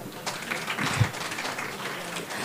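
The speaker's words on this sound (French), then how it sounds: "Battez des mains, s'il vous plaît." An audience at a Saint Valentine's evening event claps hands in a steady, moderate patter that runs throughout, with one brief louder burst midway.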